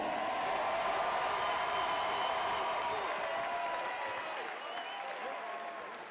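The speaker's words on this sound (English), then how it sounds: "Give them a big round of applause." An audience at a fight event gives a big round of applause, dense sustained clapping mixed with crowd murmur that fills the space and slowly fades toward the end.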